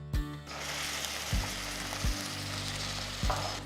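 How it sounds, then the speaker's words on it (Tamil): Ginger garlic paste hits golden-brown onions in a hot pan, giving a steady loud sizzle with a few low knocks of a spoon or utensil against the pan as it is stirred. "இந்த ஸ்டேஜில் நான் 2 டீஸ்பூன் இஞ்சி பூண்டு பேஸ்ட் போடுறேன்."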